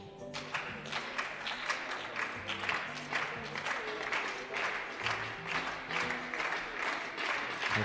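Spectators clap steadily and fairly quietly during a women's air pistol final at a European shooting championship. The dense, continuous applause carries on for several seconds, with faint voices underneath.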